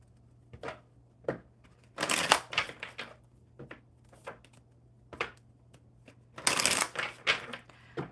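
A deck of oracle cards is shuffled in bursts, crisp riffling and flapping bunched into several quick runs, close and fairly quiet against a soft background hum.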